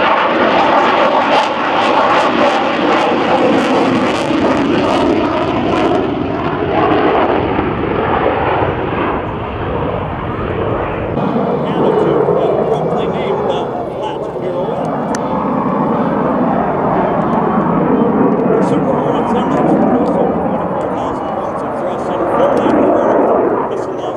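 An F/A-18 Super Hornet jet at the 2023 Dayton Air Show roars continuously and loudly, its engine noise shifting as it passes, with an announcer talking over it.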